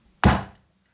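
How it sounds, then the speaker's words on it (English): A door slams shut as a sound effect in a read-aloud children's story, one sharp, heavy thud that decays quickly, close and loud against silence. "slamming his door"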